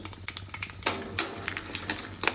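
Mustard seeds, urad dal, chana dal and dry red chillies frying in sesame oil, with a steady close sizzle, scattered seed pops and stirring scrapes throughout.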